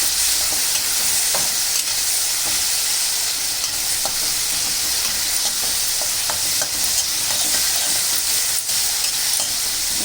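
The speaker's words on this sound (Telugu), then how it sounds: "ఇది వేసుకొని బాగా ఒక 5 మినిట్స్ వేగనివ్వాలండి" Ridge gourd pieces frying in a pan hiss in a loud, unbroken sizzle, with scattered light clicks and scrapes of stirring throughout and no talking.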